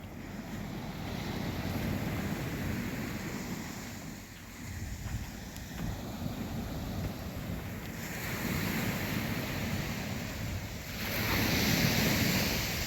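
Sea waves wash continuously at Oued Laou harbour on the Moroccan coast, a steady close roar of surf mixed with wind buffeting the microphone, swelling louder near the end; no one speaks.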